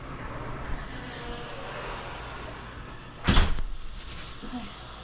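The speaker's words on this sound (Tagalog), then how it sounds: "i-close natin yung pinto." A garage door being pulled shut lands with a single short, heavy thud over a steady background hum, with quieter stretches before and after.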